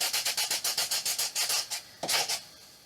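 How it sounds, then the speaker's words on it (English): Rhythmic sanding strokes on a foam pumpkin riser, about a dozen quick, even back-and-forth rubs close by, then a pause and a final burst of scrubbing, with no voices. "We're just going to sand it. I think if we just sand it down,"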